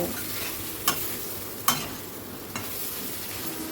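Taro pieces being stir-fried with spice paste in a wok, a steady close sizzle broken by three sharp scraping strokes of a spatula against the pan.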